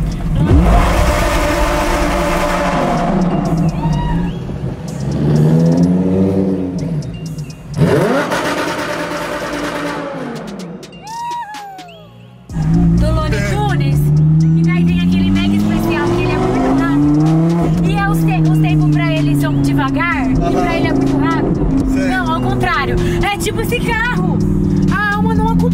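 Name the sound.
Lamborghini sports car accelerating and revving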